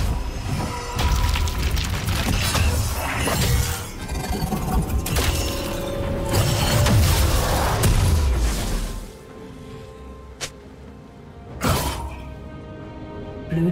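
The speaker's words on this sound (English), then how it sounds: "Blue team's turret has been destroyed." A turret collapses in League of Legends: heavy booms, shattering debris and mechanical creaks roll on for several seconds, then fade to scattered sharp impacts and a softer tail.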